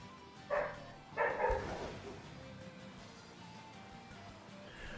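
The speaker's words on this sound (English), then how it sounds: "Are the dogs causing a bunch of noise?" Dogs bark in two short bursts near the start, the second a quick double bark, moderately close in a home, followed by quiet room tone.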